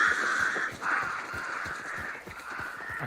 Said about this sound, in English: I hate these birds.